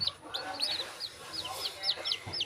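Young Peru breed chicken chicks cheep repeatedly in quick, high-pitched peeps, several birds overlapping close by with soft clucking underneath.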